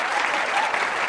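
Audience applause at a Hindi political roast show, a steady, dense wash of clapping that holds evenly loud for the whole second with no voices over it.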